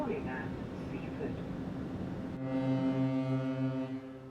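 A boat's ship horn in Train Sim World 6 sounds from a distance as a long, steady, deep tone in the second half. Before it there is a quieter stretch with someone talking.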